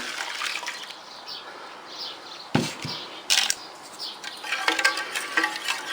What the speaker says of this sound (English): 330 millilitres of boiled water, put that in there.